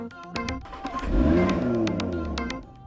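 A 2022 Volkswagen ID.3 electric hatchback accelerates on an Australian road near Canberra's Telstra Tower, its drive hum swelling and rising in pitch, then easing off.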